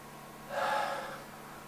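One deep, slow breath drawn in through the nose during a calming breathing exercise, a soft, airy inhale rising and fading within about a second in a quiet room.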